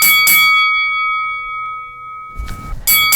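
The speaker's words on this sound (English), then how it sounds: "That was a bell for boxing." Boxing bell ringing: two sharp metallic dings with a long ringing decay between them, then a burst of noise before a final clang.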